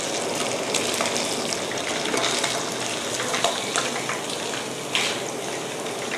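Snakehead fish fry in hot oil, a steady, dense crackling sizzle with scattered louder pops, close and continuous with no voices.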